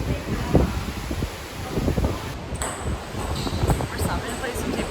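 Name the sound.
strong wind in the Bahamas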